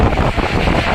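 Wind buffets the microphone outdoors beside a two-wheeler trolley, a loud, low rumbling gust that lasts about a second with no voices.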